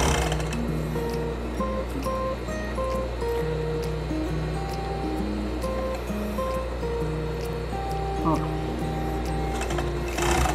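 A sewing machine stitches fabric for pet clothing in steady whirring bursts that start and stop repeatedly, close and prominent, while a person talks over it.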